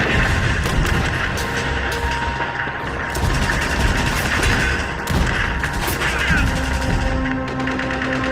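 Battle gunfire sound effect: dense, continuous bursts of rifle and machine-gun shots with thumps and booms, loud and close throughout the street fighting.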